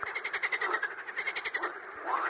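Frog croaking in a quick rhythmic series of raspy pulses, fairly close and steady, with no voices over it.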